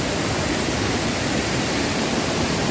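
Lastak Falls, a waterfall in Dingalan, Aurora, roars as a steady, dense broadband rush of falling water, close and continuous with no voices over it.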